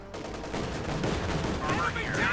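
Rapid 20mm cannon fire in Company of Heroes 2, a dense burst of booming gunshots in a battle against riflemen, loud and continuous with a brief whine near the end.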